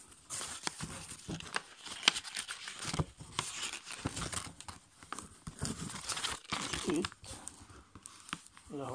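Sheets of paper are folded into a paper airplane, with close, quiet crinkling, creasing and rustling that come in irregular bursts.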